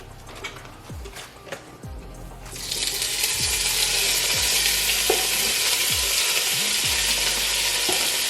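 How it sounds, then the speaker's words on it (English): Andouille sausage browning in a thin coat of oil in a pan: a loud, steady broadband sizzle swells in after about two seconds and holds, with a few soft knocks and clinks of utensils at the start. "put a little oil in here. Just enough to coat the pan so I can brown my sausage."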